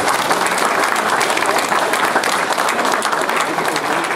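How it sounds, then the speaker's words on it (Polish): A crowd at a kayak club's season-summary event in Olsztyn claps warmly, a loud, dense, continuous wash of applause filling the whole stretch. "Gorące brawa dla Tomka Mędrckiego."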